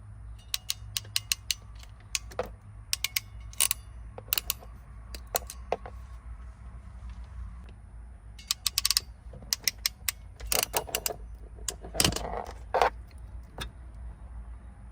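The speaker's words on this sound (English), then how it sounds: "but I'll go ahead and crimp it again." Crimp tool squeezing a tachometer wire connector on a GM truck: sharp ratcheting clicks in quick clusters, close and fairly quiet, with pauses between bursts.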